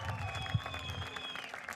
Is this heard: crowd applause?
yes